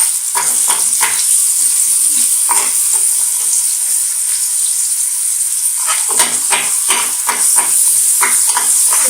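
One onion and two green chillies fry in about two spoons of refined oil, giving a loud, constant sizzle with scattered crackles and soft stirring scrapes close by.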